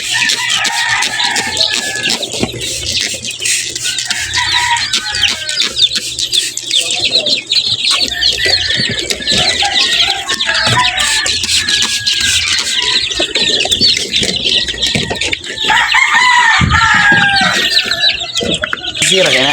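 Chickens and cockerels cluck and crow continuously at close range, a busy flock mixing short clucks, squeals and chirps, with occasional speech heard under the birds.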